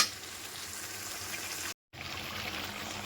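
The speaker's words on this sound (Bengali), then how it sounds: "এবার আমি ভালো করে মশলার সঙ্গে চিকেনটাকে কিন্তু কষাবো" Chicken sautéing with spices in a pan makes a soft, continuous bubbling sizzle, fairly quiet and close, broken by a brief silent gap midway before resuming.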